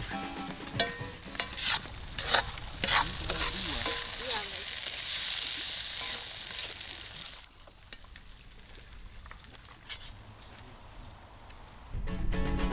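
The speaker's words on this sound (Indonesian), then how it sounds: "Sayo dicampurkan ke dalam bumbu woku yang sudah ditumis harum." Sayo fish is stirred into a sautéed Minahasa woku spice paste in a hot pan, with steady sizzling and scraping spatula knocks, loud at first and then quieter.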